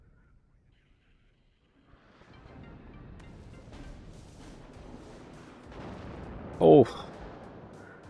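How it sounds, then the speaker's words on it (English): Distant artillery fire rumbles and booms across the battlefield in the game WARNO, building into one sharp loud blast near the end, with a brief spoken exclamation. "Once again, Hippie making good use of that artillery for harassment and clearing buildings"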